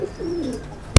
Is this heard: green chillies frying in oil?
no